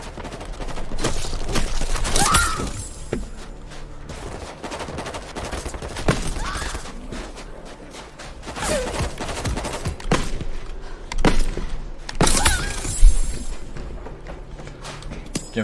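Gunfire in the zombie shooter World War Z: Aftermath comes as sustained, rapid volleys with heavier shots standing out now and then, and occasional thuds mixed into the steady barrage.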